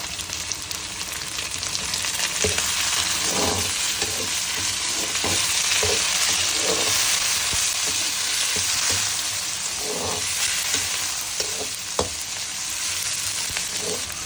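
Spices fry in a pan for a fenugreek curry, giving a dense continuous sizzle up close, punctuated by periodic scraping and stirring strokes.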